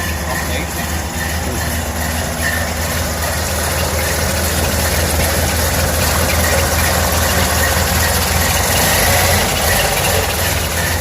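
A pickup truck engine idles steadily after a cold crank, a low continuous rumble with a faint mechanical clatter, close and even throughout.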